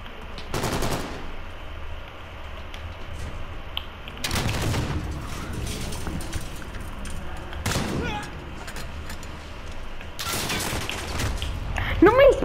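Gunfire in a shooting video game: several loud broadband bursts spaced a few seconds apart over a steady low background, with a short rising electronic tone near the end.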